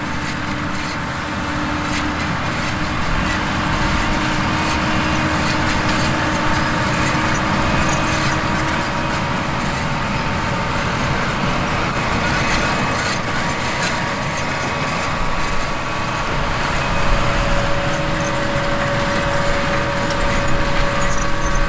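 A tractor pulls a new John Deere 24-row corn planter across a field, giving a steady, continuous engine drone with mechanical rattle that stays at an even level throughout, without any voices.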